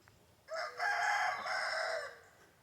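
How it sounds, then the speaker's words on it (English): A rooster crows once, a loud drawn-out call lasting about two seconds, clear against a quiet background. "Wait for the rooster to stop."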